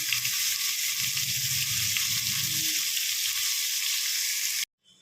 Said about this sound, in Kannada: ಇವಾಗ ಸಣ್ಣದಾಗಿ ಹೆಚ್ಕೊಂಡಿರೋ ಈರುಳ್ಳಿ ಹಾಕ್ಕೊತಾ ಇದ್ದೀನಿ.